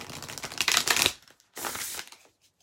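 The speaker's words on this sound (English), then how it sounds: "And let me shuffle." Tarot card deck being shuffled by hand, two quick riffling bursts of papery card flutter separated by a brief pause, close and moderately loud, with no talk.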